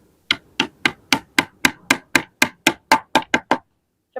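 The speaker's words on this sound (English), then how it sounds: "So basically hammer in and then another hole." Fourteen quick, evenly spaced hammer taps ring out close by, each a sharp knock with a short decay, followed by silence.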